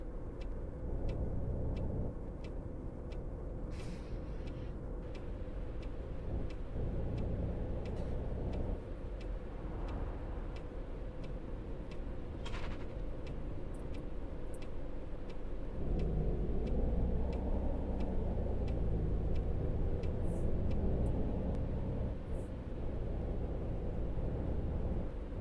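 Traffic rolls past an intersection in the Fernbus bus simulator game: a steady, heavy low rumble of vehicles with a light, regular ticking running over it.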